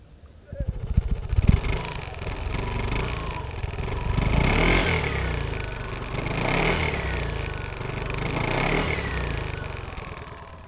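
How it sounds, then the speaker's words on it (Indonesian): An Aprilia SR GT 200 scooter engine starts and runs close by, idling with a low rumble and revving up in a few swelling bursts. "kalian pasti penasaran sama suara SRGT 200 ini. Kita dengerin suaranya yuk."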